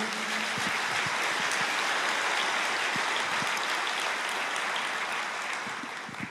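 A church congregation applauds together, a dense steady patter of many hands clapping that fills the room and tapers slightly at the end, with no talk over it.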